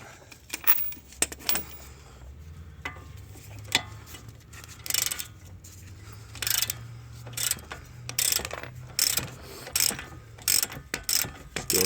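A ratchet works on bolts holding the CV axle of a 2008–2013 Nissan Rogue, rapid clicking pawl bursts in repeated strokes with metallic clanks, close up.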